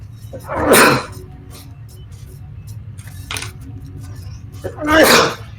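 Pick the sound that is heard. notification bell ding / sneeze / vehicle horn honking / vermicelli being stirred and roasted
sneeze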